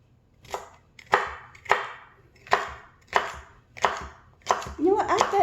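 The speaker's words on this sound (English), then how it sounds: "But I'm just going to chop this up." Knife chopping vegetable stalks on a cutting board, seven or eight steady, evenly spaced close chops, with a faint voice starting at the end.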